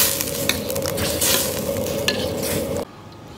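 Starch slurry is stirred into simmering meatball broth in a wok: steady bubbling sizzle with scraping stir strokes, ending abruptly in near silence.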